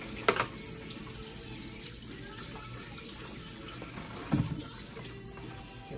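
Water runs steadily from a sink tap at low, even volume for the whole stretch, spilling toward the floor, with a couple of brief louder splashes or knocks.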